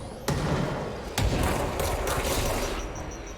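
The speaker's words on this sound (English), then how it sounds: "Oop, more grenades." Grenade explosions in the video game Control: two sharp, booming blasts a second apart, each followed by a dense, noisy rumble of combat.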